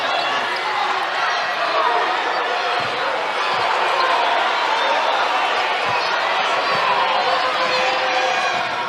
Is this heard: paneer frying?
no